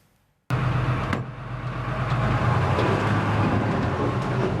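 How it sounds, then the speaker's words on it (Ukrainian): A refurbished Soviet BRDM armoured vehicle on its first test drive starts up abruptly after silence, then a steady, loud engine rumble with road noise continues, smooth and fairly even throughout. "Цей відремонтований БРДМ вперше виїздить на випробування."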